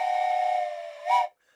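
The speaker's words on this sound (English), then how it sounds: "we'll do this train whistle for Thomas" A steam train whistle from a vehicle simulation game gives one sustained tonal blast that dips slightly, then a brief louder hissing toot before cutting off cleanly to silence.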